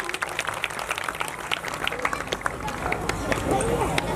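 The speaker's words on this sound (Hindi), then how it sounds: "एक बार ताली बजाओ वहां के सभी भक्तों के लिए" Devotees at a Hindu religious gathering with devotional singing clap along in rhythmic, uneven bursts, mixed with crowd murmur and voices talking over the clapping.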